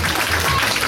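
Audience applause at a show, a brief steady wash of clapping from a crowd with music faintly underneath.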